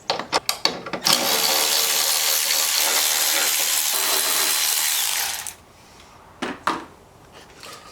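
A ratchet wrench works on small 10 mm bolts during a power steering overhaul on a Nissan 240SX. A few sharp clicks lead into several seconds of loud, steady mechanical whirring, then it stops and a few scattered clicks follow.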